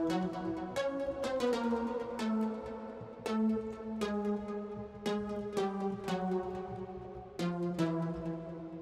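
A synth bass melody for an electronic dance track loops around, smooth sustained low notes rolling back into the same phrase, fairly quiet and alone.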